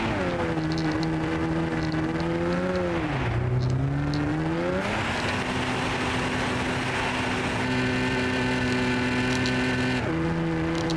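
Simulated car engine in Gran Turismo holding steady harmonic tones on a race track, dipping and rising in pitch as gears shift, loud and continuous throughout with no talking.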